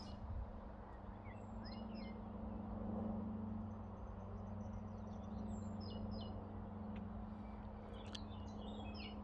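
Birds chirp outdoors in scattered short calls, moderately distant and fairly faint, over a steady low hum and background noise.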